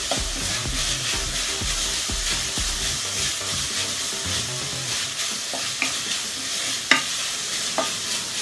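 Bacon sizzles and crackles in a pan for a carbonara, with a busy stretch of stirring and clatter at first, then a steady close hiss broken by a few sharp pops.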